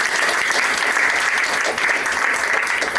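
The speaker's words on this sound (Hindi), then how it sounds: "इनके लिए एक जोरदार तालियां होगी" Loud, steady applause from an audience at the grand opening of a new franchise in Ayodhya, filling the whole stretch with dense clapping and no pauses.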